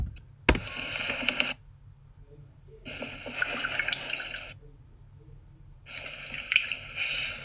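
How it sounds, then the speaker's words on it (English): Coffee pours into a cup in three long, splashing liquid bursts separated by near-silent gaps, with a sharp click near the start, as a repeated sound inserted in a dialogue edit. "so that was a very long coffee pour"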